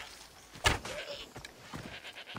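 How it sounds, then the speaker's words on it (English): Goats bleating in Assassin's Creed Odyssey: one sharp, loud bleat followed by fainter, shorter bleats and scattered game sounds, with no talking. "Die, you dang goats!"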